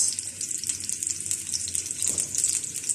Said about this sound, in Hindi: ये हमारा प्याज अब ब्राउन हो रहा है।